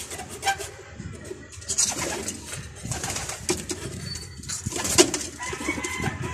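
Young pigeons or doves cooing and calling close by in a backyard loft, soft repeated coos with some rustling and wing movement, no talking.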